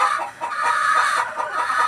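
Laying hens cluck steadily at close range in a backyard, a busy overlapping chatter with no talking.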